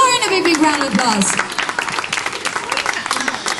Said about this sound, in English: Give Lauren a big, big round of applause.